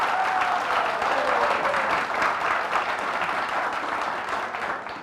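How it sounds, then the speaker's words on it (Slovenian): Studio audience applauding during a televised 2018 Ljubljana mayoral debate, a dense sustained burst of clapping from many hands that holds steady and fades slightly toward the end, with no speech over it. "jaz sem pa zadovoljen, če ljudje ploskajo v tem studiu"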